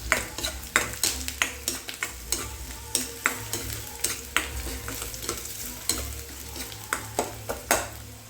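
Crushed ginger and garlic sizzle in hot oil in a pan for a tasty lunch curry, a steady close frying hiss broken by frequent sharp clinks and scrapes of a stirring utensil.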